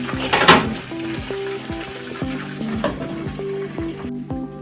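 Chicken pieces frying in hot oil give a steady close sizzle throughout, with a louder burst of crackling near the start and occasional light utensil clinks.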